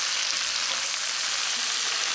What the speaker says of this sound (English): There's nothing like frying bacon.